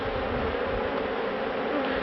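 Honey bees at a hive hum in a dense, continuous swarm drone, close and steady without a break, while no one speaks.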